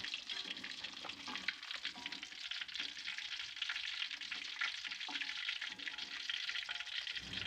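Fish deep-frying in hot oil until crisp, a steady close-up sizzle with bubbling crackle and occasional stirring, no voices.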